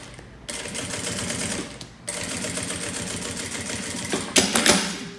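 A straight-stitch sewing machine runs in rapid, steady bursts while stitching a wallet that converts into a bag, pausing briefly between runs, with a few sharp clicks near the end.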